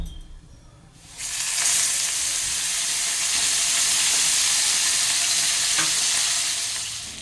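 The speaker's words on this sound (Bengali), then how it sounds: "এবার এই তেলের মধ্যে আমি এই যে মাছগুলো একে একে ছেড়ে দিয়ে এটাকে ভেজে নেব" Loud, steady sizzling of parshe fish (mullet) frying in hot oil starts abruptly after a quiet second and continues unbroken, close by.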